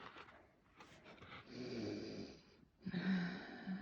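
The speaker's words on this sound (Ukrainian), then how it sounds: "Мурчить, чуєш, як мурчить?" A cat purrs softly and steadily, a low rumbling drone that pauses briefly and resumes, close by.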